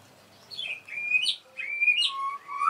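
Black-tailed white-rumped shama (murai batu) at a breeding farm in Gunungsitoli, Nias: clear, close whistled chirps and rising and falling song phrases in short bursts over a quiet background.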